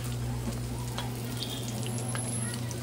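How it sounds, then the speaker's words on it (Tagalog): Onions frying in a pan for chicken asado, a low steady sizzle under a constant hum, with soft scrapes and taps as they are stirred. "Haluin lang po hanggang maluto ang ating sibuyas"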